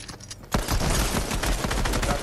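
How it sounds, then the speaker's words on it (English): Rapid pistol gunfire in a video game, a dense burst of sharp overlapping shots after a short quieter lead-in, loud and continuous with no talking. "Just shoot a pistol."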